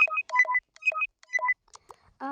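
A phone dials out to call a friend: several short bursts of clear dialing tones in an uneven rhythm, close and fairly loud, ending with a brief buzzing ring tone.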